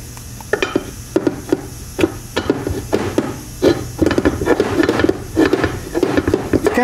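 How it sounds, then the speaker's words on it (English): A hammer drives a roll pin into the extension housing of a Super T10 four-speed transmission, catching the idler shaft, with a series of sharp, uneven metallic taps close by. "You simply have to drive this roll pin into the extension housing and catch both the extension housing and the idler shaft."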